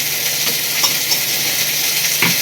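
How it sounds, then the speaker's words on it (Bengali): Pointed gourd frying in a pan of oil, a steady close sizzle throughout with faint stirring taps. "এখন শুধু পটলটাকে লাল লাল করে ভাজছি এখন"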